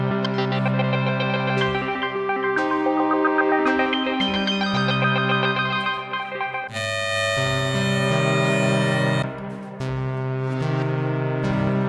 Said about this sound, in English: Let's see what we have in the reverb.